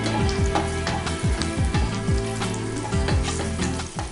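Black raisins fry in hot oil while mutton biryani is being made, giving a loud, steady sizzle with bursts of crackling and spattering that carry through the whole stretch, with no voices over it.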